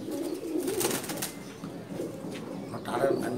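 Afsan Baga pigeons coo in a pigeon market in Dhaka, a low warbling call rising and falling over a busy background with a brief flutter of wings.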